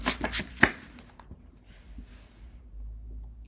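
Tarot cards shuffled by hand: a few quick riffling bursts up front, then a quieter stretch of soft handling noise, close and fairly faint.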